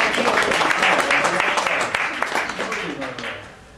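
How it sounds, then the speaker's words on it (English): Audience applause at a book talk, a dense burst of clapping that holds for a few seconds and then fades, with voices mixed in. "It's a round of applause for her."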